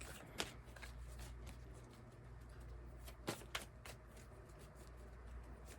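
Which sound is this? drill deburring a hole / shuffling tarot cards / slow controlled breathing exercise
shuffling tarot cards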